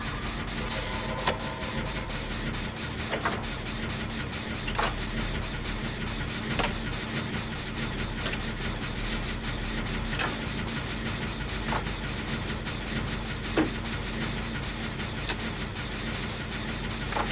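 A generator in the video game Texas Chainsaw Massacre runs with a steady mechanical engine drone, punctuated at regular intervals by brief clicks and knocks, all at a moderate level.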